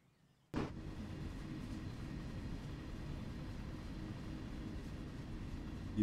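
A container train in Train Sim World 3 rumbles past close by, starting abruptly after near-silence and holding a steady, loud, low rolling roar to the end.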